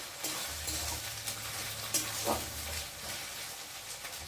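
Spice paste of ground cumin and ginger sizzling in hot oil for a chicken dish, a steady close frying hiss with occasional stirring scrapes, moderately loud and alone.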